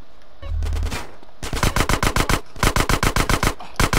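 AK rifle fire in GTA San Andreas comes in rapid bursts of loud, close, evenly spaced shots, with short gaps between the strings and a low rumble near the start.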